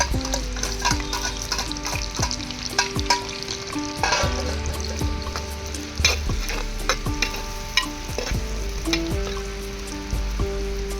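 Chopped onions and green chillies frying for fish curry, a steady oily sizzle under repeated spatula scrapes and clanks against the pan, close up, with no one speaking.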